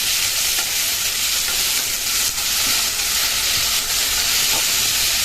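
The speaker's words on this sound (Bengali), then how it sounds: "এবারে দিয়ে দেবো একটা বড় টেবিল চামচের 1 টেবিল চামচ আদা বাটা" Ginger paste fries with capsicum in a pan for paneer kalia, a loud, dense, steady hiss of oil with stirring underneath, up close and uninterrupted by voices.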